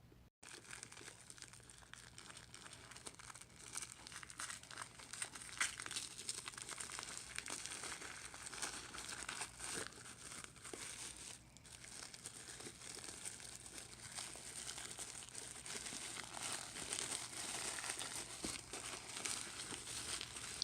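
Tissue paper crinkles and rustles almost continuously while a black leather Chanel mini flap purse is unwrapped by hand. The crisp crackling is faint and close, with occasional louder crunches and no talking.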